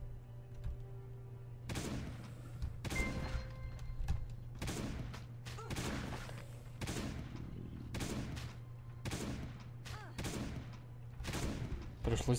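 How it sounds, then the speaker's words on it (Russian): A shotgun fires repeatedly at zombies in a video game, about ten loud booming blasts at uneven intervals, each with a short echoing tail, over a steady low in-game hum. "С дробовика попробовать, что ли, его?"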